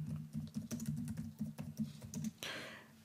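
Rapid clicking keystrokes on a computer keyboard, close and distinct, in quick uneven bursts with a short pause before a final flurry.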